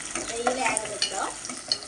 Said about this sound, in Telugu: నెయ్యిలు వేగబెట్టాం.